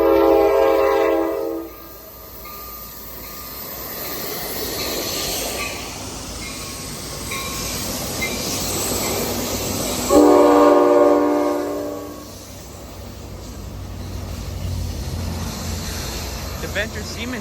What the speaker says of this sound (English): here comes Amtrak San Joaquin train 712